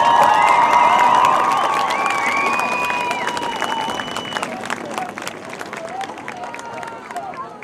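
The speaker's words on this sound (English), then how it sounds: "Please give all of these deserving seniors a round of applause" Crowd in the stands at a high school varsity football game, Sparta versus Comstock Park, applauding and cheering for graduating seniors, a continuous spread of clapping and shouts that slowly fades, with voices and whistles mixed in.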